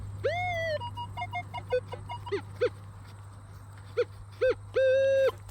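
A metal detector sounds over a buried coin target, giving several clear electronic tones that rise and hold in short repeated bursts, with a low steady hum underneath.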